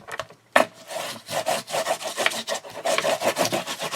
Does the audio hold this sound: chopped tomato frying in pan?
no